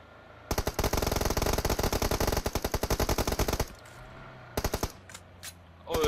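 Rapid, sustained automatic gunfire from a rifle in the mobile battle royale game PUBG Mobile, a long loud close burst followed by a few shorter volleys, with no talk over it.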